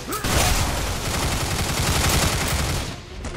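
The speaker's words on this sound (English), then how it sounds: "who's shooting at here?" Rapid bursts of gunfire from the video game Bulletstorm, a dense, continuous crackle of shots filling the clip loudly with no talk over it.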